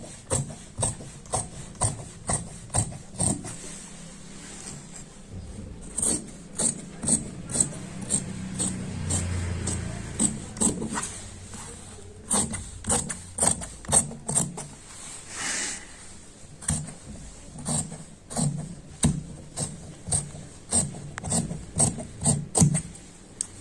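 Scissors cutting fabric for a child's shirt: steady rhythmic snips and crunching slices, close and fairly quiet, repeating in quick runs with short pauses and some rustling of cloth between.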